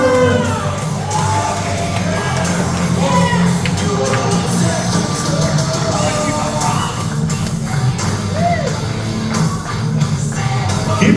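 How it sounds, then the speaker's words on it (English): A wrestling event crowd cheers, whoops and yells for the Blizzard Brawl winner, a dense, loud, sustained roar of many voices with scattered shouts. "Big round of applause for our winner of the Blizzard Brawl, Jake Carter"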